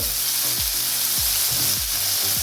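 Onions frying in a pan for chicken rogan josh, a steady close sizzle with repeated soft stirring scrapes at a regular rhythm, no voices.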